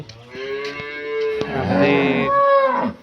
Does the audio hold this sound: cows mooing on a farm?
yes